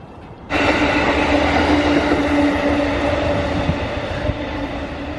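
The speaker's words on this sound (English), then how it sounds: "that's the southbound Vermonter, the one Amtrak train that doesn't stop here" The southbound Amtrak Vermonter passenger train rushes through Wallingford station without stopping, a loud, steady roar of wheels and rails that starts abruptly and holds with a faint clickety-clack, heard alone without talk.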